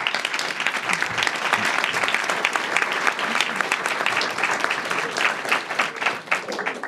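A round of applause from the audience at a Kirkland community event on building an inclusive and safe community. Dense, steady clapping fills the whole stretch, loud and close, with faint voices underneath.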